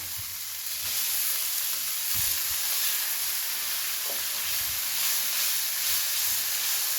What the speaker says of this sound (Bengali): পেঁয়াজটা মোটামুটি ভাজা হয়ে এসেছে। এবার এর মধ্যে দেব হচ্ছে টমেটোটা।